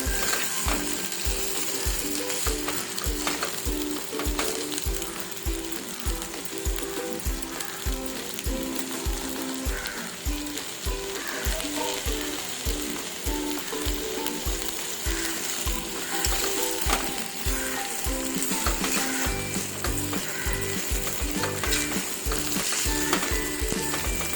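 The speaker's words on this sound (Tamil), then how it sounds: "கத்திரிக்காய் கொஞ்சம் கலர் சேஞ்ச் ஆகிற வரையில் வதக்கலாம்" Brinjal sautés in oil in a pan, a steady close sizzle broken by a regular, repeated scraping of a spoon stirring throughout.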